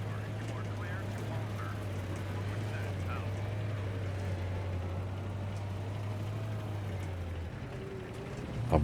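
Vehicle engine in the video game Battlefield 3 droning with a steady low hum that cuts out near the end, with faint clanks and mechanical noises over it.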